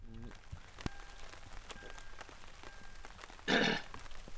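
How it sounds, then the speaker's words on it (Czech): Light rain patters on surfaces in the Mangystau desert of Kazakhstan, a faint steady drizzle of scattered drops with a few sharp ticks and a louder burst of spray near the end. "bohužel za nás prší"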